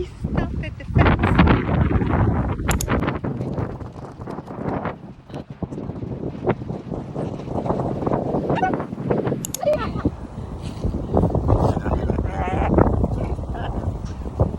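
Strong wind buffets the microphone on a windy day outdoors, a loud continuous roar with gusts while people talk over it.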